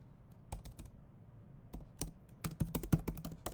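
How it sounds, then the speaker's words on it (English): Bursts of clicking keystrokes on a computer keyboard, close and fairly quiet, starting sparse and speeding into a quick run of taps toward the end. "Let me type in good morning here on Facebook."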